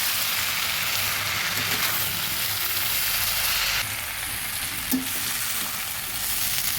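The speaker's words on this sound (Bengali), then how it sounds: "ভালোভাবে নেড়ে দিচ্ছি" Jackfruit curry fries in hot oil with spices and slit green chillies as it is stirred, a steady close sizzle with occasional scraping clicks of the spoon against the pan.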